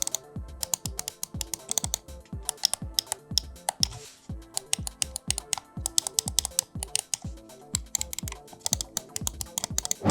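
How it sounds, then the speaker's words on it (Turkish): A Hawk gaming mouse's buttons click over and over in a fast, uneven run of crisp, close taps that continue for about ten seconds with only a brief pause. "Ayrıca şöyle tıklama sesleri de normal, çok fazla sesli değil."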